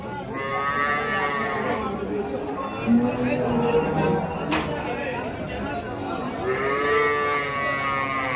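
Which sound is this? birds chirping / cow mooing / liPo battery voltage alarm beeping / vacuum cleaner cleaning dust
cow mooing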